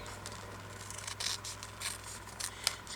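Paper being cut with scissors for a tuck-style journal embellishment, a quiet run of short snipping strokes with one sharper snip near the end, close up and with no talking.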